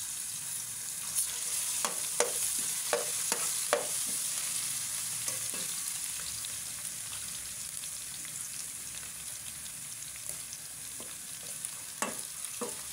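Garlic ginger paste sizzling in a hot pan while being stirred for chicken biryani, a steady frying hiss punctuated by scattered scraping clicks of a spoon, close and alone without talk.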